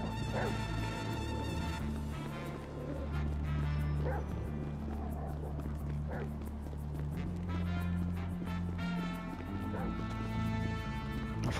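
A dog in Grand Theft Auto V gives intermittent barks and yips, mixed into continuous game music and background noise, with voices speaking around it.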